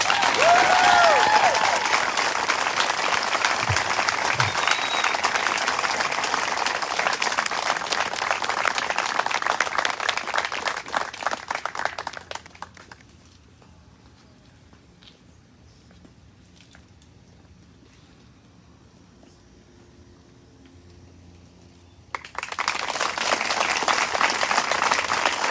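Audience applause at a school Senior Transition Day brick ceremony, loud sustained clapping from a crowd for about twelve seconds, then a quiet pause, then the applause resumes just as strongly.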